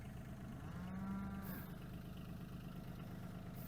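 Cattle lowing on a farm after cows and calves broke out of their pen, one clear drawn-out moo standing out over steady background noise and a faint engine hum.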